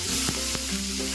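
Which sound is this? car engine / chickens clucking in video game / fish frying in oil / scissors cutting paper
fish frying in oil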